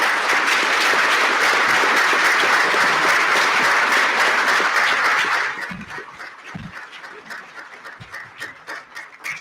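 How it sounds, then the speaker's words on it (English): Loud audience applause for panelists at an annual public-affairs conference, a dense wash of clapping that drops off sharply about halfway through, leaving scattered quieter claps and room noise. "how about a round of applause for our panelists?"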